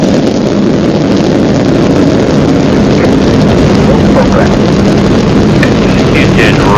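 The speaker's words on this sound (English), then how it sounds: "booster ignition and liftoff of the Space Shuttle Atlantis" A continuous, thunderous roar of Space Shuttle Atlantis's rocket engines at booster ignition and liftoff fills the air, broad and rumbling without pause, loud and distant.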